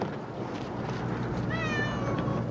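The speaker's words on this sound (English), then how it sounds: "I just wanted to let you know we got your cats." Domestic cats rescued from the 1997 Red River flood give a short, clear meow partway through, rising over a steady background of indoor noise and murmur.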